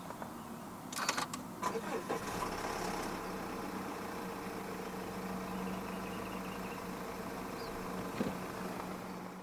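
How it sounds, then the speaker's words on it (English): A 2021 Mazda CX-8 with a 2.2 SkyActiv-D diesel engine starts by push button: a brief cranking burst catches into a steady, low diesel idle that carries on evenly, heard from inside the car at moderate volume. "Put your foot on the brake and press the start button to the left of the steering wheel."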